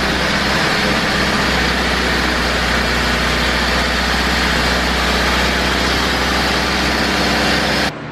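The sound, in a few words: Honda Civic engine idling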